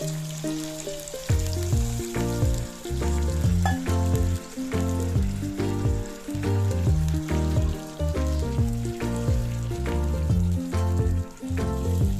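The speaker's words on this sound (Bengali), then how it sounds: "এবার আগে থেকে আমি গরম জল করে রেখেছিলাম, সেটা আমি এবার এখানে দিয়ে দেব" Hot water goes into a sizzling pan of chicken curry, making a loud close hiss and crackle with bubbling throughout. Music plays over it and nobody speaks.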